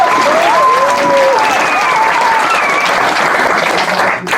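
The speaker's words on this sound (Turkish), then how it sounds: "kocaman bir alkış tutuyoruz" An audience at an opening speech breaks into sustained applause for the youth and their elders, a dense, even roar of clapping with some thin whistles over it, easing off slightly near the end.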